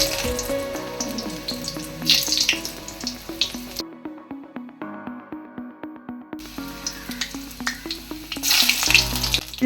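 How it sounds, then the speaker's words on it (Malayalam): Chopped garlic sizzles steadily in hot coconut oil for a prawn masala, a fairly loud frying hiss with a short quieter stretch of stirring and clinks midway before the sizzle returns. "എണ്ണ ചൂടാകുമ്പോൾ 3-4 അല്ലി വെളുത്തുള്ളി ചെറുതായി അരിഞ്ഞിടുക."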